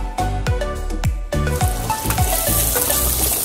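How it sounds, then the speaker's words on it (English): Shallots sizzling loudly in a hot pan while being stirred, a dense continuous fry with a few clanks of the utensil against the pan at the start, close and alone without talk. "Mix the veggies well."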